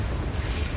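A Confringo blasting spell detonates in the Hogwarts Legacy video game, a continuous low rumbling boom that fills the whole moment with dense bass energy and no voice over it.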